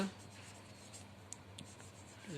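A pen scratches across paper while an accounts journal entry is written out for a class 11 lesson, brief quiet strokes in a still room with no voice.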